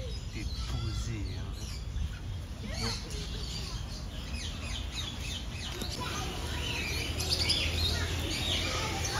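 Birds chirp repeatedly in an outdoor setting in Medina, Saudi Arabia, their short tweets scattered over steady low background rumble and ambient noise, with voices faintly present.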